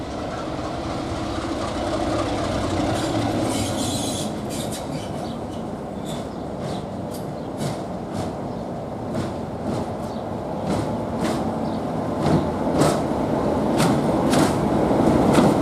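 A heritage train rolls along the Wensleydale line, wheels clicking over rail joints in a regular clickety-clack over a steady, moderately loud rumble, with no voices.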